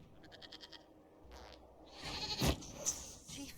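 A goat bleats in Dragon Age: Inquisition, a few short nasal cries over quiet game ambience, growing louder and closer toward the end.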